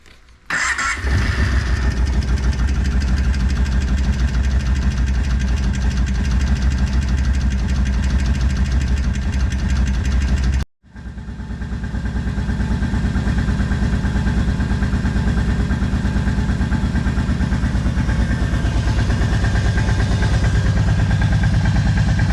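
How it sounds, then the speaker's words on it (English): An Arctic Cat 650 2V ATV engine cranks and fires, then idles loudly and steadily up close. It cuts out abruptly about halfway through, restarts, and settles back into a rough, even idle. "I want to start it up, let it run for a minute, circulate through the oil filter"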